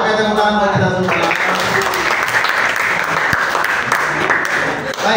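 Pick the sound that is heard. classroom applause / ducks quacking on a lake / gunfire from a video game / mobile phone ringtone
classroom applause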